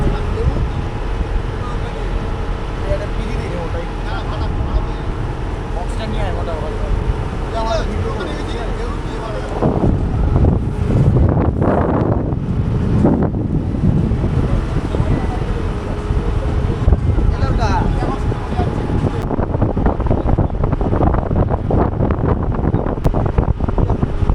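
Steady wind buffeting the microphone over a low engine-like rumble and water noise on a moving boat in the Sundarbans near Bakkhali, with voices talking intermittently.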